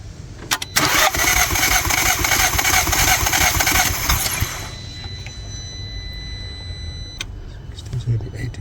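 An Audi A3 TFSI with a misfire cranks and catches with a loud broadband burst, then drops to a steady, quieter idle with a low rumbling pulse, close by and without talk.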